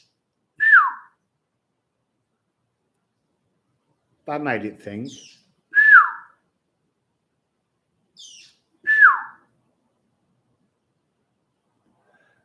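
Loud bird calls ring out, three separate clear downward-sliding whistles spaced a few seconds apart with silence between them, and a brief spoken voice and faint chirps fall in the gaps.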